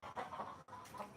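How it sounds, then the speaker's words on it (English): Chickens cluck close by in a continuous, busy stream of short calls, with a brief gap partway through before the clucking resumes at similar loudness. "I think a cat just got one of those chickens."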